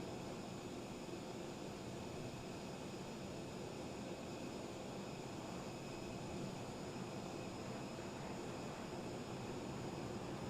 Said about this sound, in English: Nope, it's a flyby.